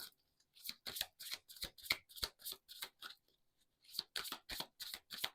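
Oracle cards for a tarot reading are shuffled up close, in two quick runs of rhythmic riffling taps with a short pause between, loud and clear with no talking.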